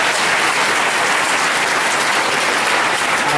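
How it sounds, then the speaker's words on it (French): A church congregation applauds loudly and steadily, a dense unbroken wash of clapping that fills the whole moment with no speech. "Applaudissez encore pour le Seigneur."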